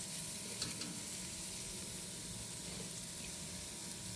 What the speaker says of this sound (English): Kind of stir it around a bit.